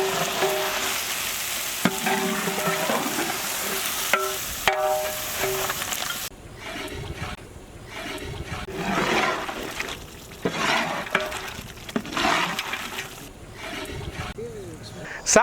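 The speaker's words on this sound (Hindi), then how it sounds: "ऑयल में क्रैब पीसेस 2 मिनट तक अच्छी तरह भुने" Crab pieces fry in oil, then masala paste is added and stirred, giving steady sizzling with scraping stir sounds throughout.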